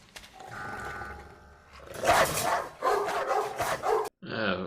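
Dogs bark and growl in a French crime thriller scene set at a dog-breeding kennel, several loud, rough bursts packed close together and ending abruptly, with a brief lower growl after a gap.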